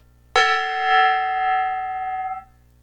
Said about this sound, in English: I'll hit a gong in your honor.